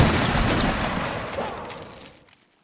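An honor guard at an outdoor grand rally fires a ceremonial rifle volley: one loud, sharp blast whose long rumbling echo fades away over about two seconds.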